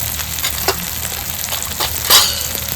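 Crab curry fries with turmeric, Kashmiri chili, cumin and coriander powders in a pan, a steady close sizzle broken by scattered stirring scrapes and one louder clatter.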